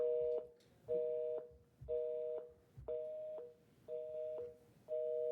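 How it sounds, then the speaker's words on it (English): Repeated telephone tones at the end of a call, a steady two-pitch electronic beep pulsing about once per second through the whole stretch, fairly quiet and clear with no talk over it. "Should I hang up now, Kamar?"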